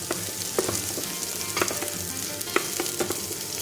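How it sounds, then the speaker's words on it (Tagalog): Onion and garlic sautéing in hot oil in a pan, a continuous close sizzle with a few sharp stirring clicks and scrapes, no voices. "So start na tayong manggisa sa pinainit na mantika."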